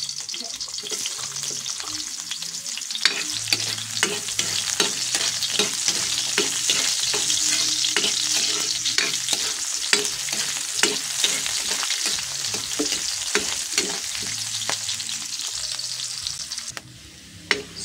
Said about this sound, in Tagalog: Lutuin lang natin ng konti yung bawang. Tapos, isunod yung sibuyas.